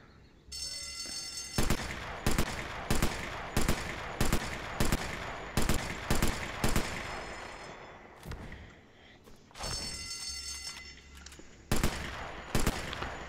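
Rapid gunfire in the VR shooter Sniper Elite VR rings out as loud bursts of sharp, evenly spaced shots, broken by a short quieter gap before the firing starts again, with no voices.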